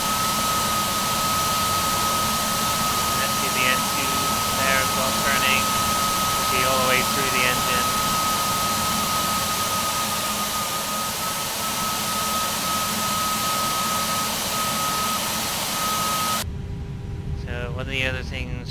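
CFM LEAP-1A jet engines idling on a simulated Airbus A320/A321, heard close up: a constant loud roar with a steady high whine, briefly shifting in tone near the end.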